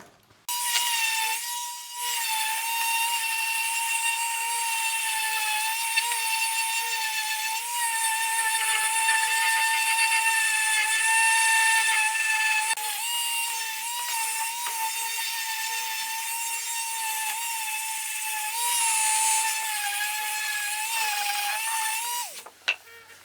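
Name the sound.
sanding an ash guitar body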